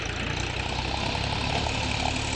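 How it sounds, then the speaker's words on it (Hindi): A Farmtrac and another tractor, set up for a tug-of-war contest, run with a loud, even diesel rumble that holds steady and dense throughout, with no voices. "देखिए दोनों ट्रैक्टर फिर से स्टार्ट किए जा रहे हैं।"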